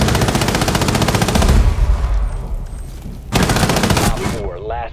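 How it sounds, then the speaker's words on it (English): Rapid automatic gunfire from Blackbeard, a Rainbow Six Siege operator, in a dense loud burst lasting about three seconds, then a brief lull and a second burst, with a voice trailing at the end. "that's Blackbeard shooting at you"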